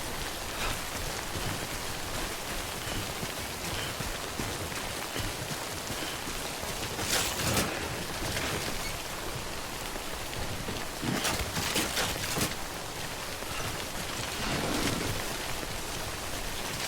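Steady, heavy rain in the video game Death Stranding hisses continuously, with occasional louder gusty swells rising and fading.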